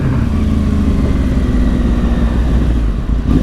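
A 2010 Yamaha R1 1000cc sportbike with Yoshimura exhaust pipes drones on a relaxed ride, its engine a loud, steady, deep hum with little change in pitch.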